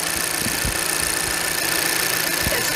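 A Mercedes-Benz Citan 113 Tourer's 1.3-litre, 131 hp petrol engine idles steadily and quietly, heard close up with a smooth, even hum and faint rhythmic pulsing throughout, no voices.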